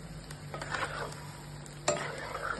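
Moong dal fritters sizzling as they fry in oil, a soft steady crackle close by with occasional stirring scrapes and one brief clink of a utensil.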